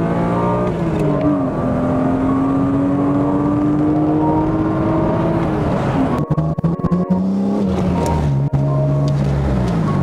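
An engine-swapped BMW E36 race car engine revs loudly and continuously, its pitch climbing and dropping through several surges, with a rough, buzzing idle near the end.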